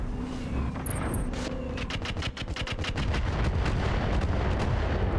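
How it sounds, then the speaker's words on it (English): Missile barrages slam into a mech in the BattleTech video game, a fast run of sharp, loud impact blasts and rumbling booms in quick succession, no talk over them. "Missiles landing on the adder."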